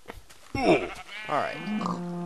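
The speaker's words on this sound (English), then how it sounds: "That's supposed to be cows, but a sheep spawned in there somehow" A sheep in the Minecraft game lets out two or three close, clear bleats in quick succession, loud and alone against a quiet background.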